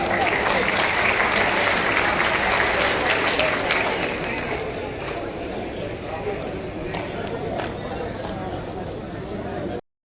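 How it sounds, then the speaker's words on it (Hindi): Audience applause at a gathering, a dense, steady wash of clapping with crowd noise that fills the clip before cutting off abruptly near the end. "जोरदार ताली हो जाए"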